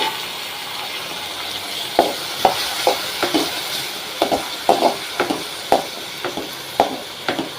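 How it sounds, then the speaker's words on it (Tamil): Chopped tomatoes with curry leaves sautéing in a pan for prawn chukka, a steady sizzle with repeated sharp scraping stirs of a spoon against the pan. "தக்காளி கொஞ்சம் வதங்கட்டுங்க"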